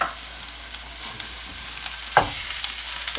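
Ground beef, still partly frozen, frying in a pan on high heat gives a steady, close hiss, broken by a sharp scrape or clack partway through and a few soft spatters, with no talking.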